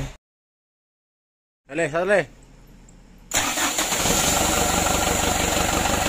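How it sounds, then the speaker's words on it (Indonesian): A rebuilt Mitsubishi Canter HD 125 PS truck engine cranks and fires after near silence, then settles into a loud, steady running roar up close, with a brief voice before it starts. "untuk mesinnya sudah hidup"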